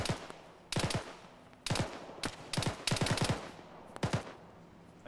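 Machine-gun fire in an Arma military game comes in several close, loud bursts of rapid shots. Short pauses separate the bursts, and there is a quieter background between them.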